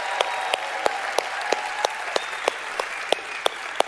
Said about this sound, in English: A round of applause for Jim Caldwell, please.